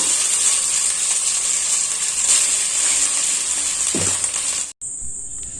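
Cooked, cooled rice is tipped into a pressure cooker for sweet zarda pulao, heard as a steady hiss and sizzle with a short scraping clatter near the end, followed by an abrupt cut and a high whine.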